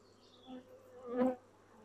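Honeybees buzz faintly at an open hive during a frame inspection, with a low drone that swells briefly as a bee passes close.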